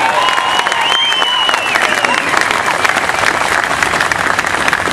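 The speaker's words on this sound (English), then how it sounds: "Let's give him a round of applause." A political rally crowd breaks into sustained applause, dense clapping filling the room at high volume, with scattered cheers mixed in.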